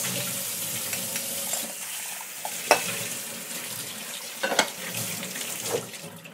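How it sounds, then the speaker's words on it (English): Pumpkin seeds rinsed under a running kitchen tap, a steady hiss of water with seeds swirled and stirred, broken by a few sharp clinks against the bowl or strainer. "I don't mind rinsing it with tap water because they're not soaking in it."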